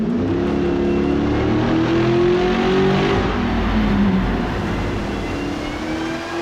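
A 1960 Cadillac with a supercharged 376 LS3 engine revs hard nearby, the supercharger whining as the pitch climbs, eases back, then rises again.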